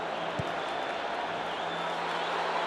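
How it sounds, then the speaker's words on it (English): Stadium crowd at a Stellenbosch FC versus Kaizer Chiefs cup football match, a steady broad roar of cheering voices throughout, with a brief thump near the start. "Now the crowd have found their voice."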